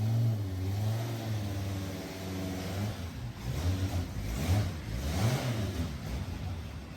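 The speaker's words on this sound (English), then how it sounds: "They're going to put the Group B Audi Quattro on the dyno." Group B Audi Quattro rally engine on a dyno at an engine tuner's shop late at night, running steadily with a mid-pitched drone, then revving up and down in several rising sweeps, loud and close with no talk.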